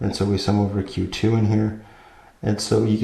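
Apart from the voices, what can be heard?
No everyday noises stand out.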